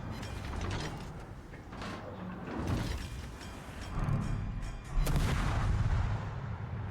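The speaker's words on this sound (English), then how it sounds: "Oh good, he's shooting at you." Naval gunfire from an enemy warship in the World of Warships game, with booming salvos and heavy mechanical rumble around a Soviet Kiev destroyer; two loud bursts land close together near the end.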